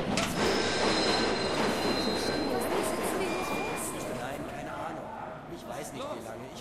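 A train in the video game Halo ODST rumbling along with high-pitched wheel squeals, a loud continuous clatter that thins slightly toward the end, while voices talk over it.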